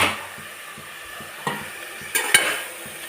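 Pepper chicken frying in oil while being stirred, a steady background sizzle broken by several sharp scraping clacks from the spatula against the pan, with no talking.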